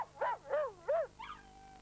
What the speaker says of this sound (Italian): Saranno molti i padroni di cuccioli di cane a riconoscere questo suono emesso da un lupacchiotto